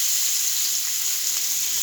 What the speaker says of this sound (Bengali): এবার পনিরগুলি ছেড়ে দিচ্ছি।